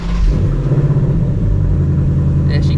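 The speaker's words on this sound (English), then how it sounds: "let's get a cold start" A 2024 Ford Mustang GT V8 cold start, heard as a loud, steady low engine rumble right up close, with an initial surge that settles into a deep, even idle for the whole stretch.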